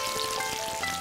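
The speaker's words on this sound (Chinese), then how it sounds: "慈菇油炸成金黄色" Slices of arrowhead deep-frying in hot oil give a steady, dense crackling sizzle that stays close and even throughout, with no voices.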